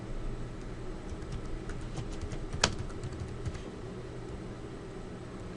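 Keys on a computer keyboard tap in a quick, light, irregular patter at close range, with one sharper keystroke standing out midway and no talking.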